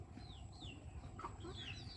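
A kotkoti chicken brought home from the market clucks faintly, its short rising and falling calls coming close together over a low background rumble.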